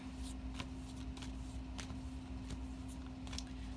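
Tarot cards shuffled close by in soft, quick riffling bursts over a steady low electrical hum, quiet and without talk.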